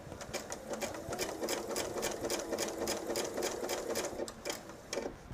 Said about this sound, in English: we're going to go back and we're going to top stitch on either side